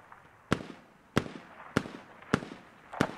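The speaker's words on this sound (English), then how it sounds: "These grenades hurt." Grenade explosions in the military shooter game Squad, five sharp booming blasts spaced roughly half a second apart, each a sudden loud crack with a short decaying tail, no talk over them.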